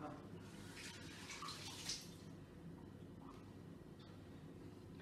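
Water poured into a mixer jar of jamun rasam, a steady soft splashing and gurgling that swells briefly early on and then settles into a faint continuous trickle.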